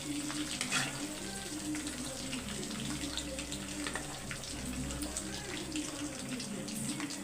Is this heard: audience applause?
no